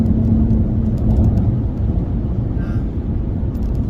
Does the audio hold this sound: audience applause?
no